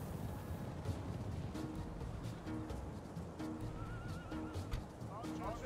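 Cavalry horses in Medieval 2: Total War whinny and neigh several times amid clattering hooves and battle ambience, while someone talks over the game sounds.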